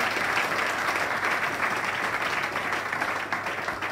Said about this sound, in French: Acclame pour sa guérison effective